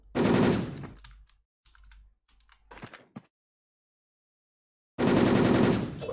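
Automatic gunfire in the video game Wolfteam, a loud rapid burst, then short scattered shots and a pause before another loud burst, with no talking.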